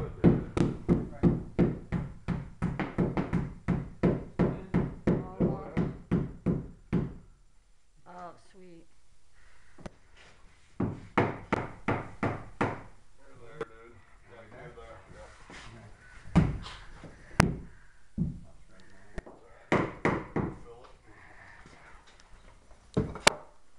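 Wooden boards being pried out with a hammer while working on a pirate ship build, a run of close knocks and thuds in bursts, with a person talking in between.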